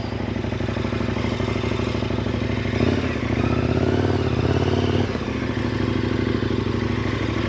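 A KTM 1090 Adventure motorcycle engine drones steadily during an adventure ride, with a rougher, louder surge in the middle and mechanical clatter, heard up close without speech.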